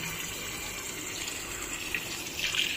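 Tap water gushes steadily into a fully automatic washing machine being filled manually from the top, a continuous broadband rush with slight surges near the end, close and loud with no talk.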